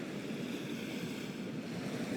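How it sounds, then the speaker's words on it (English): Ocean waves wash steadily in the background as a broad, continuous rushing surf with some wind, unbroken across the whole stretch and fairly loud, with no voices. "I really hope that the waves in the background are not too loud"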